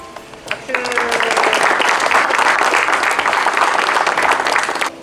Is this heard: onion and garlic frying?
no